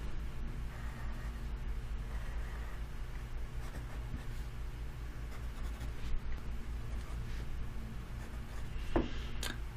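Pencil lead scratches softly across tracing paper while points are traced, faint intermittent strokes over a low steady room hum, with a sharper tap near the end.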